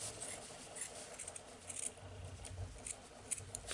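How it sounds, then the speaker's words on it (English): Scissors snipping through a strip of material for a bow tie, a few quiet, close, crisp cuts in irregular rhythm over a faint background. "So we're just going to cut this as a strip right here."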